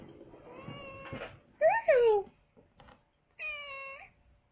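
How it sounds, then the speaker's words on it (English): A house cat meows a few times, one short rising-falling cry followed by a longer call, close and fairly loud, while a person speaks briefly in between. "He's meowing for some reason."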